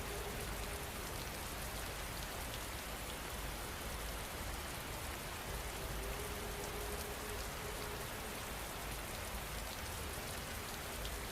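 Steady rain falls on a surface as a constant, even hiss of dense drops, unbroken and fairly soft throughout, with no voices.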